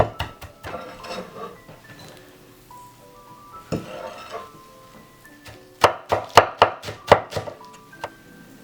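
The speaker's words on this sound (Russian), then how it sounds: "либо топориком, либо тяжелым ножом слегка вот так порубить" A heavy knife chops green onion on a cutting board while preparing filling for Dagestani chudu. Scattered sharp chops come at first, then a quicker burst of loud, close strikes with light clinks of kitchenware in between.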